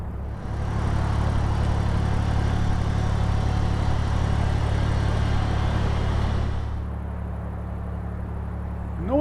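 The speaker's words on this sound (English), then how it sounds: "The noise of the traffic is unbelievable." Steady, loud roar of motorway traffic heard from a canal beneath the motorway bridge, a continuous engine rumble that eases slightly near the end.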